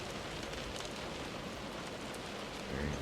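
Rain falls outdoors in the game Close to the Sun, a steady, even hiss of drops spread across surfaces, moderately loud with no voices.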